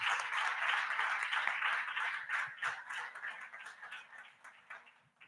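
Church congregation applauding during a Sunday worship service, a dense wash of clapping that stays loud for several seconds, then thins and fades toward the end.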